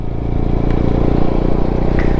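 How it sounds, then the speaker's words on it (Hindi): Motorcycle engine held at a steady, loud mid-rev drone as a learner rider gives throttle on day one, with faint clatter from the bike over about two seconds. "दे रेस दे, एक्सेलेरेट कर इसको थोड़ा सा।"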